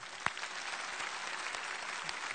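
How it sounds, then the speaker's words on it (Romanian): An X Factor audience applauds in a steady, fairly faint wash of clapping with one sharp clap near the start. "Aplauze, aplauze!"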